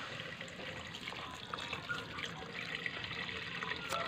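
Water pours steadily into a cooking pot for a vegetable dish with shrimp and squash, a continuous faint splashing trickle that runs throughout at low volume.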